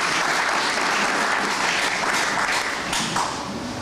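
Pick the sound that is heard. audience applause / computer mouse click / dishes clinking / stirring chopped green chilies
audience applause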